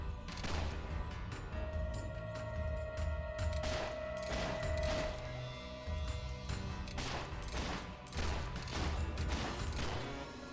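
Gunshots ring out at a wolf in the video game Fable 3, a series of sharp, loud cracks spaced a second or two apart over steady game background sound.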